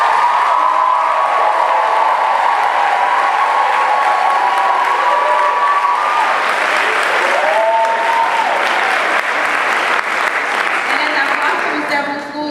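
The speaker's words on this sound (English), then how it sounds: "So can I have our operations directors and operations coordinators please stand up and receive a large round of applause." Large round of applause for operations directors and coordinators at a school closing ceremony, dense sustained clapping from a big audience lasting over twelve seconds, with cheering voices rising above it in places.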